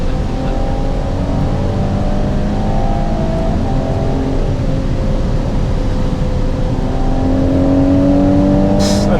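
A Ferrari Purosangue's engine revs hard with quick, aggressive downshifts, a loud continuous roar of engine and road noise with shifting tonal pitch and no talking over it.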